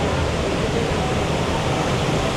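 Waterfalls in the lobby of the Polynesian resort give a steady, even rush of falling water that fills the space without a break and with no talking.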